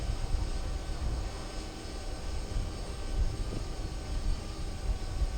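A DJI drone flies outdoors near trees, giving a steady, even whirring drone of rotor noise that stays at a constant moderate level throughout, with no talking.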